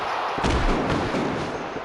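A powerbomb slam in a wrestling video game lands as a loud, booming thud with a dense, noisy roar behind it, filling the whole moment without any voices.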